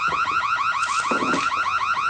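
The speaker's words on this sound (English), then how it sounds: "The alarm will be triggered." Home security alarm going off, a loud continuous warbling electronic siren cycling rapidly and steadily for the whole stretch, close and alone with no talk.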